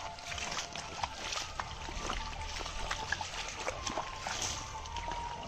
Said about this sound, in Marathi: वरती पाणी चालू आहे ना.